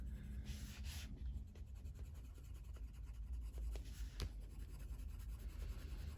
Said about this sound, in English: It's the same if I'm colouring leaves. I'll only tend to use 1 or 2 pencils.